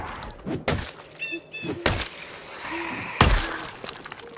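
In the zombie survival game Project Zomboid, a zombie batters a window with several sharp, loud thunks and a breaking crash, spaced irregularly, close by with faint game tones between the blows.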